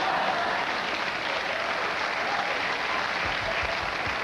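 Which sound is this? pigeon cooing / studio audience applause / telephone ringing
studio audience applause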